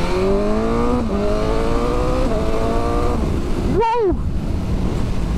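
A BMW M1000R naked motorcycle roars as it is ridden, engine pitch climbing through gears with brief dips at each shift, then a sharp rev flare near the end.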